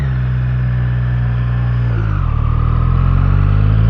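A 2024 Triumph Street Triple 765RS runs in a high gear at low road speed, its engine lugging with a steady, loud, gritty drone that dips slightly in pitch midway and then holds, no voices over it.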